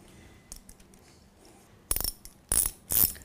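A torque wrench tightens a mountain bike pedal spindle to 4 Nm during pedal reassembly, giving three short, sharp ratcheting bursts close by after a quiet start, with no talking.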